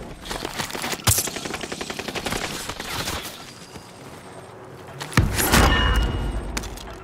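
Light machine gun fire in a video game: rapid bursts of automatic shots crackling close and loud, broken by pauses, with a heavier burst near the end.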